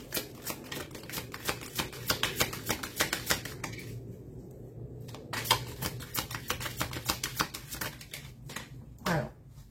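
Tarot-style cards shuffled by hand for a card reading, a rapid flutter of crisp riffles in several close bursts with a short quiet gap in the middle, no talk.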